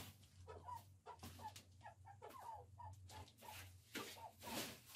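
Five young hens clucking and chattering outdoors on green grass, a busy run of short, close, fairly soft clucks and calls with a low hum beneath them.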